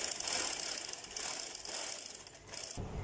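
A sewing machine stitches a trouser hem, giving a fast, busy mechanical rattle that runs for about three seconds and breaks off briefly near the end.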